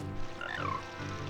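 Giant frogs croak in The Legend of Zelda: Ocarina of Time, a short chorus of rising and falling croaks over a low droning backdrop with no talking.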